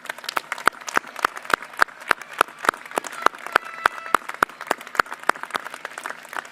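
Graduation ceremony audience gives steady applause, a fairly sparse crowd with many individual claps heard distinctly in a loose, continuous rhythm at moderate volume.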